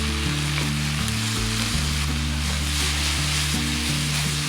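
Chopped tomato frying in a pan with onions for a snail and okra dish, giving a steady, close sizzle with a constant low hum beneath it and no voices.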